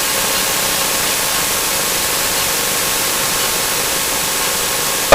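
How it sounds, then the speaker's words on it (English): Engine run-up of the light aircraft N26XY before a formation flight, a loud, steady broadband roar holding constant close by with no voices. "So we'll do our run-up here"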